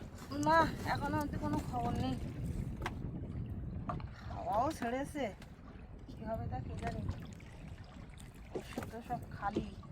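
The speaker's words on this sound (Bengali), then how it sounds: "উত্তর দিক থেকে ঠান্ডা হাওয়া সেই সাথে একটু নৌকা দোলা হচ্ছে" A small fishing boat rocks on the Garal river near Pirkhali forest in a cold north wind, with gentle water lapping and wind buffeting the microphone, heard under steady close talking.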